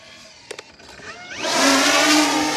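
An E-flite Beechcraft D18 RC model airplane, a 1.5 m twin-engine scale plane, starts quiet with a few clicks, then its electric motors rise into a loud, steady whining drone as it flies close by.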